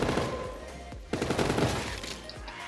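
Bursts of rapid automatic gunfire crackle from a video game, steady and fairly quiet, running with only brief gaps.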